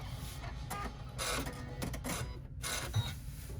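An embroidery machine runs a basting stitch to hold pleated fabric in place for a striped clutch, giving a quiet, busy mechanical whirr with rapid needle clicks and a small knock near the end, with no talking.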